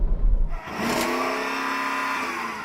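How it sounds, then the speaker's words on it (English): Naturally aspirated V8 SUV engine revving up from idle, a steady rising drone that holds near a limiter, close and loud, no talking. "We should do a rev test. So I'm going to rev up this one, okay?"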